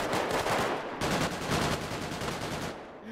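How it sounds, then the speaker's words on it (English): Rapid sustained bursts of machine gun fire from the GTA 5 video game, dense and continuous with a brief break near the one-second mark, fairly loud with a distant, spread-out quality. "The distant machine gun fire sounds amazing."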